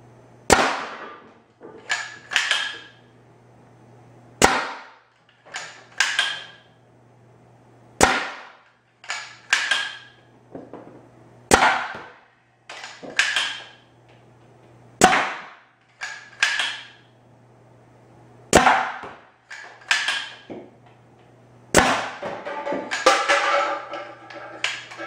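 A homemade LPA Nerf Rival bolt-action blaster fires about eight sharp, loud cracks at targets, each followed by ratcheting bolt-cycling clicks and rattles between shots, spaced a few seconds apart.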